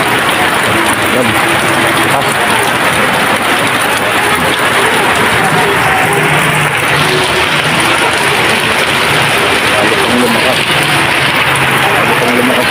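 Heavy rain pours down in a steady, dense roar that fills the whole stretch, close and loud, with no letup and no voices over it.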